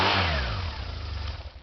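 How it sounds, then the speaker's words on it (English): Motorcycle with a cold engine, started on choke and throttle: the engine catches with a loud rev, then settles into a rapid, pulsing idle close to the microphone. "Bike starts right up every single time."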